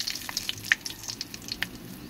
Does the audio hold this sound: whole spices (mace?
yes